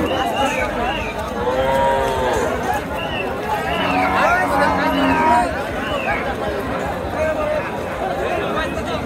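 Cows and calves mooing at a busy rural cattle market in Chapainawabganj, Bangladesh, several drawn-out moos overlapping amid constant crowd chatter and haggling voices nearby.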